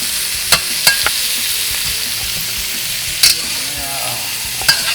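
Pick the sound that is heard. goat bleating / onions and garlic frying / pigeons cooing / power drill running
onions and garlic frying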